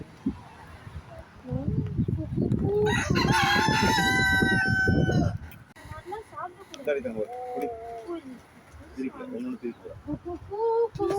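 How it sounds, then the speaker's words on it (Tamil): A brown rooster crows loudly and close, one long drawn-out call with a layered, harmonic tone, followed by people talking. "அது அந்த ப்ரௌனா இருக்கிறதே வந்து சேவல் தான்."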